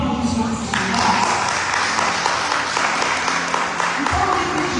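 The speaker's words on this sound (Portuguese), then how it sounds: "Você pode aplaudir essas verdades?" A church congregation breaks into applause during a sermon, a thick wash of clapping that fills the room for several seconds, with voices mixed in beneath it.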